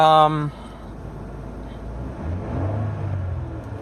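A family van's engine rumbles low and then revs up in a short rising surge, after a brief bit of talking at the start.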